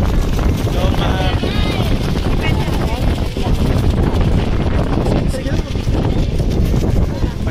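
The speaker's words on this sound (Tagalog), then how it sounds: "Mahirap, malakas ang hangin." Strong wind on a mountain roars and buffets the microphone in constant loud gusts, with muffled voices talking underneath.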